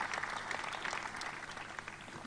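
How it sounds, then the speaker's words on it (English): An audience claps steadily for a couple of seconds at an event in Kenya, moderately far and fairly quiet. "Please clap for these people"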